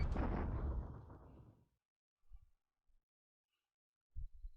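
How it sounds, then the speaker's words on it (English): Aircraft bombing troops in an open area of China in a WWII strategy video game, heard as a loud rumbling explosion that fades over about two seconds, followed by a few faint, brief low thumps and another muffled thud near the end. "Aircraft are pounding on those troops in China, in the open area in China."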